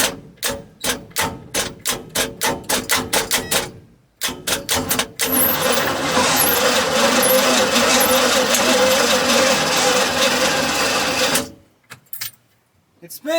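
A formerly seized 1990s Cobalt boat engine cranks over in a rapid run of loud mechanical pulses, pauses, then spins continuously for several seconds before stopping, with a brief burst at the end.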